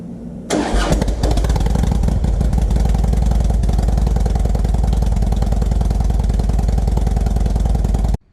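A 2009 Harley-Davidson motorcycle engine cranks and fires up after half a second, then settles into a loud, close, steady lumpy idle before cutting off abruptly at the end.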